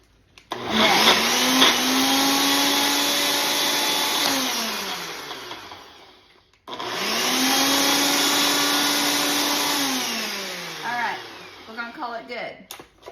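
A countertop blender whirs loudly through cottage cheese ice cream in two long runs, the pitch dropping as each burst winds down, with a short pause between and a clatter at the end.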